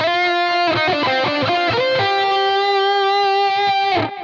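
Electric guitar with old strings played through a rhythm amp preset, loud, close distorted chords and picked notes ringing out before cutting off near the end.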